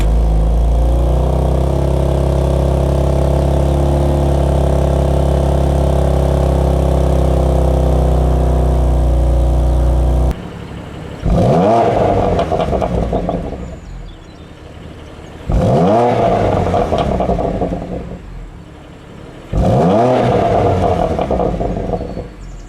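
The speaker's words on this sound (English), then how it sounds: "Starting up in Comfort, then revs in Sport Plus with the valves open," A 2019 BMW M2 Competition with quad exhaust idles with a loud steady drone, then delivers three sharp, close revs, each rising and falling back to idle with valves open.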